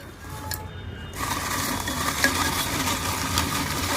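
Tarot cards being shuffled and mixed by hand, a steady broadband rustling and riffling that runs continuously and grows denser after the first second, close and fairly loud with no voice over it.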